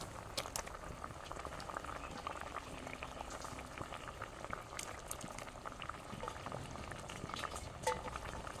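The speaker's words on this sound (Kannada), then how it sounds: "ಇವಾಗ ಇಲ್ಲಿ ಮಸಾಲ ಕೂಡ ಕುದೀತಾ ಇದೆ." A pot of masala fish curry bubbles at a steady boil with soft, continuous popping and gurgling. It is quiet and close, with scattered small pops and no voices.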